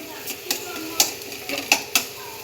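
Two beaten eggs are stirred in a pan with a utensil that scrapes and taps the metal in several sharp clicks, under a faint sizzle and low background noise.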